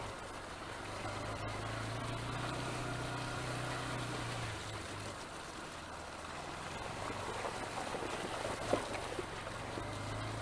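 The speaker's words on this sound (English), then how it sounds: "Just go through the water." A motorbike rides through water on a muddy countryside byway, with a low engine rumble under a continuous broad wash of splashing water and no voices.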